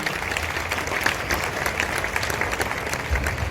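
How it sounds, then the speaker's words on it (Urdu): A congregation at a Catholic Mass in Mariamabad claps continuously to welcome its priests, a dense and steady sound of many hands that fills the space and holds an even loudness throughout. "آئے ہم اپنی تالیوں میں اپنے تمام کاہنوں کو خوش آمدید کہتے ہیں۔"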